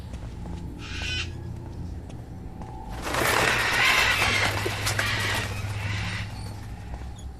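Bird cries in Silent Hill Downpour, with a short burst of squawking near the start and then a louder, harsher flurry of cawing and flapping over a steady low game ambience.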